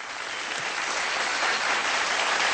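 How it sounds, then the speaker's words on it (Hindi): Loud, dense applause from a studio audience at an awards show, a steady wash of clapping that carries evenly through the whole stretch with no voices over it. "मैं चाहता हूं कि जगजीत जी के लिए जोरदार तालियां हो जाएं एक बार।"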